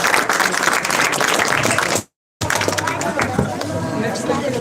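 Audience applause at a coin collection event, with broad dense clapping that breaks off briefly and then resumes, mixed with crowd chatter.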